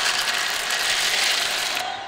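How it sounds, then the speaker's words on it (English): A dense, rapid cracking and crunching rattle of baby birds hatching in a nest in a children's cartoon, loud and continuous for about two seconds before it cuts off, with no talk. "It sounds like cracking. And it sounds like crunching."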